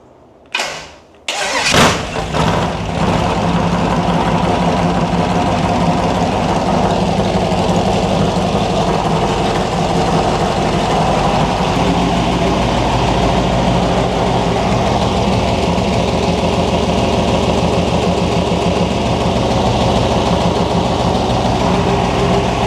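Loud T-bucket hot rod engine cranks briefly, catches, and settles into a steady, heavy rumbling idle that runs on with no talking.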